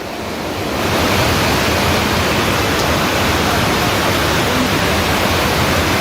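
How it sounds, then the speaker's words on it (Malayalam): Floodwater rushing past the Chooralmala school in Wayanad after a landslide, a loud, dense, continuous roar like a torrent that swells in during the first second and then holds steady, with no voices. "ഇതാ സ്കൂളിൻ്റെ തീ കൂടെയാണ് വെള്ളം വരുന്നത്."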